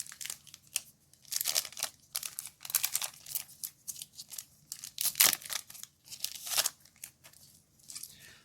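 Force of Will Alice Origin III booster packs being torn open and handled, a series of close, sharp crinkling rips and rustles of foil wrapping arriving in bursts with brief pauses between them, with no talking.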